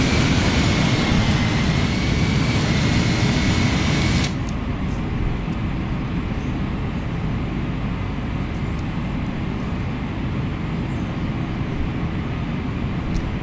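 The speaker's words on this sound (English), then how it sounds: "This is the MD-11 McDonnell Douglas by PMDG." Steady roar of a PMDG McDonnell Douglas MD-11 airliner in a flight simulator, a broad loud engine and air rush that drops slightly in level partway through and then holds constant.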